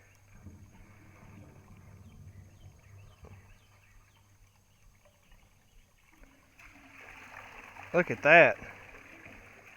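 Toilet flush water rushing through a newly installed septic drain line with a clean-out, a soft gurgling flow swelling up over the last few seconds after a quiet stretch, with a brief voice speaking over it.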